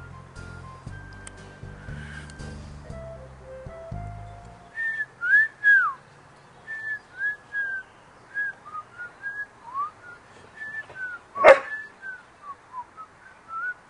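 A person whistles a series of short, clear melodic notes and slides at close range, alone and without talk, after some faint music at the start.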